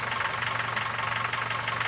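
Opel Vectra A engine running steadily just after a carburettor adjustment, a continuous close mid-pitched hum with a fine, even pulsing rhythm and no voices over it.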